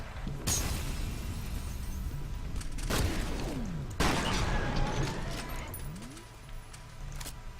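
Gunfire and a grenade explosion in the F.E.A.R. Extraction Point video game. Sharp shots and blasts arrive in scattered bursts over a constant background of combat noise.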